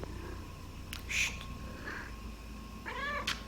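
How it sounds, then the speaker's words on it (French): A house cat meows a few times indoors against a faint steady background hum, with short, separate cries that are fairly close and moderately quiet. "Oui, j'ai un chat maintenant."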